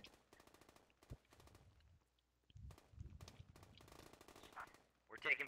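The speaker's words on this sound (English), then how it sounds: "We're taking fire in the south objective." Automatic weapon fire in the video game Squad, with bursts of rapid shots at varying distances over several seconds and a sharp loud burst at the end, while players talk over radio.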